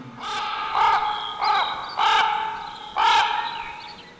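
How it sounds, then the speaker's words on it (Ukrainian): A crow caws five times in a loud, close, harsh series, each call evenly spaced about half a second to a second apart, with no other sounds around it. "Побажання є і для ворога птаха чорного, крука ворона."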